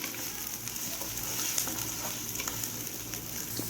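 Garlic goes into chopped onions frying in a pan for a tinda (squash) curry, giving a close, steady sizzle with light crackles and faint stirring scrapes, and no talking.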